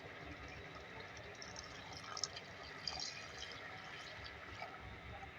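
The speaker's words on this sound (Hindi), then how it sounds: "2 गिलास पानी ऐड कर रही हूँ" Soft, continuous trickle of two glasses of water being poured into a cooking pot of beef and bottle gourd, faint and steady, with a couple of slight splashes partway through.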